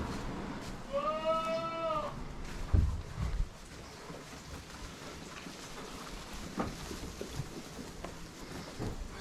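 A single sheep bleats clearly once near the start, followed by a thump and quiet outdoor rustling and shuffling.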